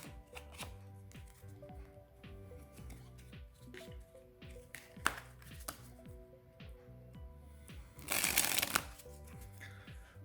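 Virtuoso P1 playing cards are riffled together in a Pharaoh shuffle, giving soft clicking card sounds and a brief dense burst of riffling as the halves interweave, close and quiet.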